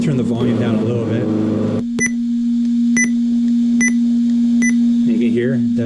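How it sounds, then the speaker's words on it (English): Short electronic confirmation beeps from a GT Power simulated RC engine sound system, four sharp evenly spaced tones over a steady droning engine hum, with a voice talking at the start and end. "You can hear that beep, the confirmation beep, gets louder or quieter."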